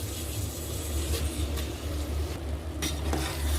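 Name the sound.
stirring basmati rice with masala in a pot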